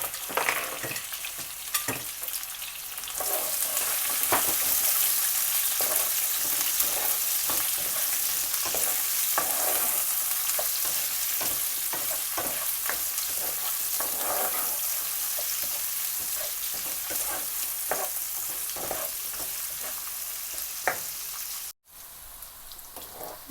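Onion, garlic and ginger sizzle and crackle steadily in a hot pan, with occasional scraping and stirring sounds, close and continuous for over twenty seconds.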